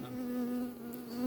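Honey bees drone at an open beehive, a steady close buzzing hum with a constant pitch that fills the moment, with no talk over it.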